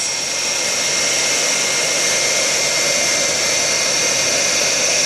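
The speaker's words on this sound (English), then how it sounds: "You're cutting, you gotta bring it by hand to the position and feel how it's cutting before you force it the tools to go big cut." Line boring machine driven by a PF 175 power feed cutting steadily, a loud continuous high-pitched whine and hiss holding even for the whole stretch with no talk.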